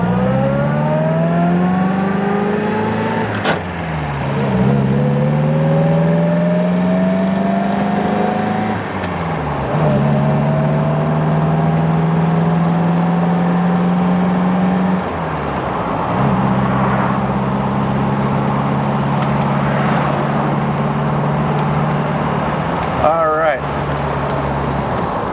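A 1951 MG TD engine pulls hard through the gears, rising in pitch with each gear and dropping at every shift, steady and loud from inside the car, with road noise throughout.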